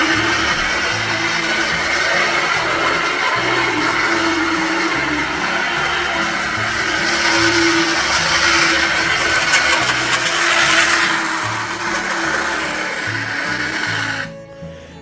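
A small model locomotive motor, unoiled, whirs and rattles roughly and unevenly, a continuous grinding buzz with clattering, steady for a while before cutting off.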